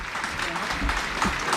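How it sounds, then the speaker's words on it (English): A football crowd at a Woking match applauds a player leaving as a substitute, a dense ripple of clapping heard over a commentator's voice. "He's getting a bit of a round of applause for his day's work."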